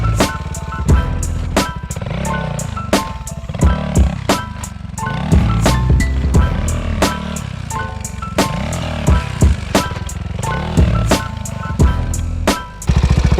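A motorcycle engine revving up and dropping back in repeated cycles while the bike is lifted into a wheelie and lowered with the rear brake, loud and close, with sharp clicks and knocks between the revs.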